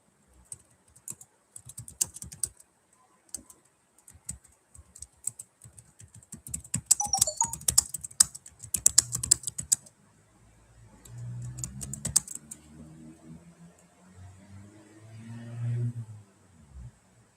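Rapid computer keyboard typing in bursts, clicky and close, with pauses between runs and a denser flurry midway, followed by low background rumble and faint movement.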